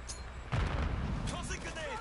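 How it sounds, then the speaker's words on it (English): A heavy airstrike explosion in Call of Duty booms in about halfway through and rumbles on, with scattered game sounds and voices continuing over the lingering blast. "Friendly airstrike in the AO"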